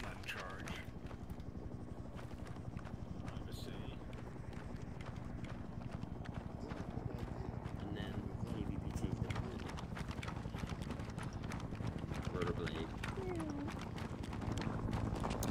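A military helicopter rotor in the Arma 3 video game thumps in a fast, continuous beat throughout, with players talking over it.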